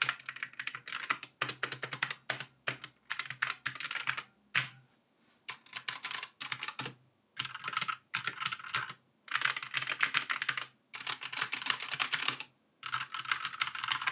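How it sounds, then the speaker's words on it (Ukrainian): Steady bursts of fast typing on a mechanical keyboard with linear switches, short pauses between runs, crisp clacky key presses close up and no talking. "ось моя також не дуже дорога клавіатура з лінійними оптичними перемикачами і ось червоні лінійні механічні."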